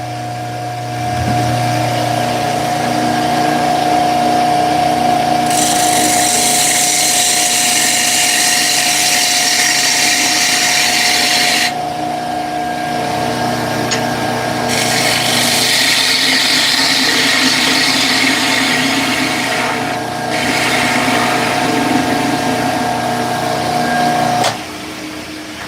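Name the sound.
woodturning lathe cutting bowl with sharpened bowl gouge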